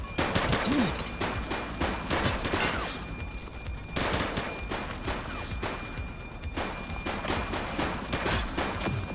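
Police shootout in The Precinct video game, with dense rapid gunfire bursts and volleys crackling loudly and almost without pause throughout.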